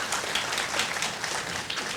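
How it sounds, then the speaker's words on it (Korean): Fairly faint applause from an audience at a leadership talk, as a volunteer comes up to try a puzzle, a steady wash of many hands clapping, heard from a distance. "박수 쳐주시죠."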